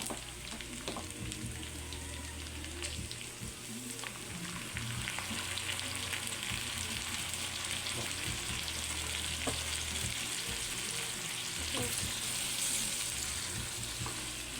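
Pork humba fries in a pan with a soft, continuous sizzle while it is stirred, with scattered scrapes and bubbling, fairly quiet and with no voices.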